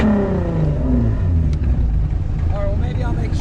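Drift car with a broken flex pipe revving hard, a loud, raw, rising engine roar close by, with a voice talking over it.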